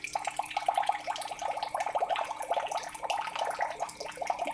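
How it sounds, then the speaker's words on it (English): A newly unboxed water dispenser pours water into a coffee mug, a close, continuous trickling stream with bubbly splashing that stays steady throughout. "Putting some water into the coffee mug there."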